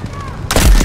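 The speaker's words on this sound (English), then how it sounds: "Incoming artillery." Artillery fire in Delta Force: Hawk Ops, a single sharp heavy boom hitting nearby and loud after a brief quieter lead-in of game ambience.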